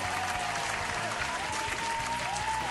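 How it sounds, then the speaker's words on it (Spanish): Steady applause from a crowd, loud and continuous throughout with no break, used as a sound effect in a gaming stream. "Claro, ahí está el aplauso."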